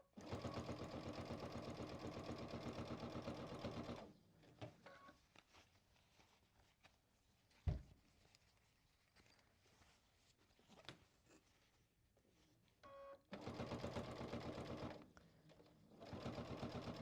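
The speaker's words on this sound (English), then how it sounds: "so if I start in the fabric, I'm just going to also backstitch off the edge" A sewing machine runs in steady bursts while backstitching fabric on a quilted backpack, loud and close, with quiet handling noises and pauses between the stitching runs.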